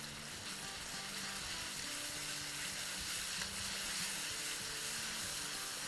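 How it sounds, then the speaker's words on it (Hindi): Chicken masala frying in a pan, a steady loud sizzle and hiss throughout with faint stirring underneath. "चले, अब ज़बरदस्त सा मसाला भूनेंगे"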